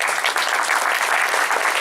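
A civic coalition audience claps for a state representative at a community event, a brief dense burst of many hands, steady and close.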